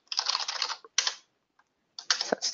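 Fingers type a password on a computer keyboard in quick, close bursts of crisp key clicks separated by short pauses, with no voices.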